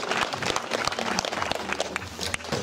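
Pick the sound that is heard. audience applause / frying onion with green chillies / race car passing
audience applause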